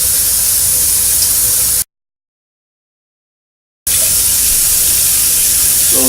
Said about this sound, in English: you rinse the pot out real quick with cold water, and then you catch some water in the same pot